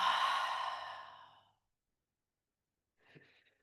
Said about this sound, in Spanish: Voy a simular un bostezo.